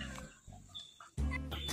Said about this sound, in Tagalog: Ang kaning mga manok